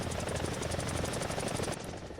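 Helicopter engine and rotor in War Thunder, a steady loud drone with rhythmic blade chop throughout, easing slightly near the end.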